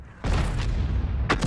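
An M53 tank gun firing in World of Tanks, a heavy booming blast that rolls on loudly, followed by further sharp impacts near the end, with no voices.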